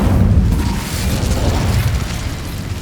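An Incendio fire spell in the Hogwarts Legacy video game erupts as a loud, booming whoosh with a deep rumble that swells early and slowly fades over a few seconds.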